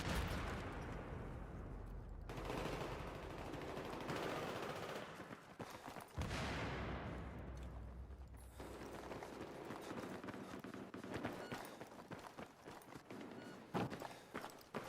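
Rapid bursts of machine gun fire in the video game Battlefield 3 on PS3, loud and dense, with repeated volleys over about fifteen seconds amid footsteps and general battle noise.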